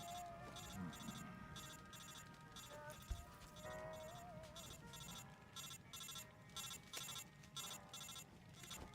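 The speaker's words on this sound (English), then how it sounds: "Phone's ringing." A repeating electronic phone ring from a Metal Gear Solid video game sounds in regular bursts over a busy background of music and effects, with one sharp thud partway through.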